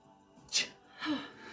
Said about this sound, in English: I think I'm gonna sneeze